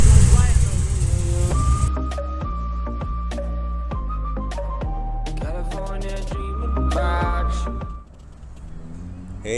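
A 1970 Plymouth 'Cuda with a 440 V8 idles loud and rumbling nearby in a steady low throb with a slight lope, then quiets near the end.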